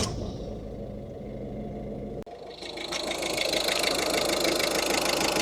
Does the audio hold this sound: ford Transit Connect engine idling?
yes